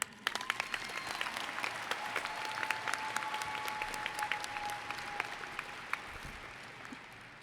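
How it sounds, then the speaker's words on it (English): Graduation crowd at a 2021 high school ceremony applauding the valedictorian with a continuous, fairly distant wash of clapping. Scattered sharper claps stand out, and a faint steady tone runs underneath. "Please join me in a round of applause for our 2021 valedictorian,"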